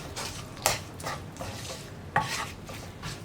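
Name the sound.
stirring mango pickle mixture with sugar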